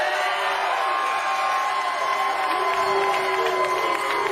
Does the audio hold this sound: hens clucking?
no